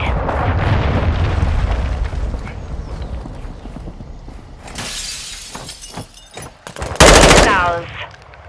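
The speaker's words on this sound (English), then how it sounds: "I'm taking fire!" Gunfire in a Call of Duty Modern Warfare 2 multiplayer match on PS5: sharp shots and bursts crack amid battle noise, with a loud rapid automatic burst toward the end and brief voice callouts in between.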